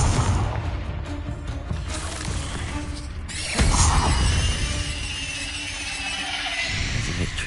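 Loud blasting spell bursts from the Hogwarts Legacy video game, a sharp explosive impact midway over a dense, continuous bed of battle noise and game music.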